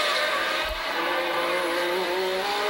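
Turbocharged 1.5-litre, 500 horsepower Ferrari Formula One race car at the 1981 Monaco Grand Prix, a continuous loud engine drone with a rising pitch as it accelerates out of the tunnel, no talk.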